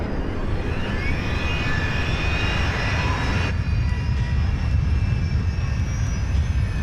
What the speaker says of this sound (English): engine number 4 roars to life